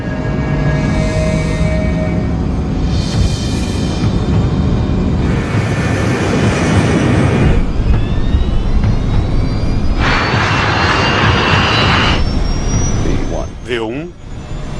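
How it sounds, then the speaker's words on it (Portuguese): A Douglas DC-8 jet airliner speeds up for takeoff from Gander airport in the early morning, its engines giving a loud, continuous roar that builds steadily under a narrator's voice and cockpit talk. "O DC-8 acelera para a velocidade de decolagem."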